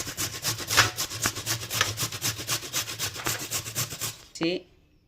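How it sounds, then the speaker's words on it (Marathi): Carrots are grated by hand in a kitchen, making quick rhythmic rasping strokes, about four a second, close and steady, before stopping abruptly with a final scrape and knock. "तर आता आपण सगळ्यात पहिलं गाजर किसायला घेऊया."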